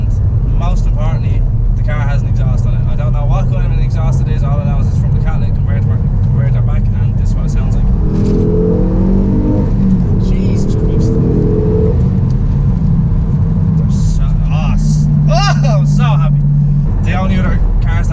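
A Ford Focus ST MK2 with an aftermarket cat-back exhaust holds a steady, loud, close engine drone with a couple of brief rises in pitch, while someone talks over it throughout.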